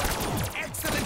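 Rapid gunshots fire at zombies in a video game on the Kino map, a tight burst of repeated loud reports packed into about a second.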